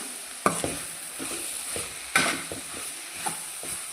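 Cabbage stir-fries in a pan, a light sizzle broken by sharp spatula clacks and scraping strokes at irregular intervals, close and fairly quiet, with nobody speaking.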